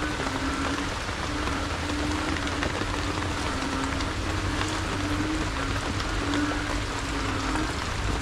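Steady rain falls on surfaces in a continuous, even hiss and patter, loud and close throughout, with no voices.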